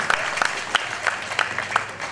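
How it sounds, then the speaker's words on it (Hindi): An audience at a school film festival event claps for a performer in a fairly regular beat, sharp claps landing roughly three times a second with a steady crowd murmur beneath. "एक बार जोरदार तालियां हो जाए हमारे परफॉर्मर के लिए।"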